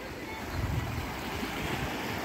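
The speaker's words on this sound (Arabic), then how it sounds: "شايفين يا سلام موج هادي جدا" Gentle sea waves wash onto a beach at Marsa Matruh, a soft steady rush of surf with light wind noise and a slightly fuller swell around the midpoint, heard alone without talk.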